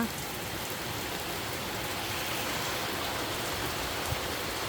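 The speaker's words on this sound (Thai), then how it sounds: "เวลาฝนตกนะคะ เราก็จะเห็น ความ สดชื่นนะคะ ของ ต้นไม้ได้มีน้ำนะคะ ตกมาแรงๆเลยค่ะ" Heavy rain pours steadily in a dense, continuous hiss, close and loud, with no voices.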